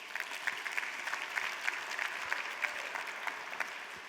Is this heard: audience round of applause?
yes